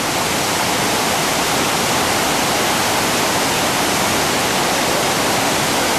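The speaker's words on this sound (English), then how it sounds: "Surrounded by waterfalls here." Waterfalls in a Hawaiian jungle give a constant loud, dense roar of rushing water, steady and unbroken.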